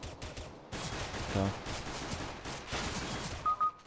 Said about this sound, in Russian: Да, очень странная стрельба.